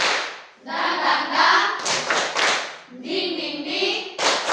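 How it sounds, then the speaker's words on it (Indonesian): Group of students clapping a rhythmic ice-breaker pattern in a classroom, close and lively bursts of hand claps in repeating phrases with a short pause between them. "Ice breaking kita tepuk semangat."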